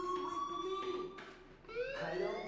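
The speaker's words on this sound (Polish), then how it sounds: "Hey, do you hear that fire alarm?" An electronic fire alarm in the game Life is Strange wails in steady tonal sweeps and rising pitch glides, loud and continuous throughout, with no talk over it.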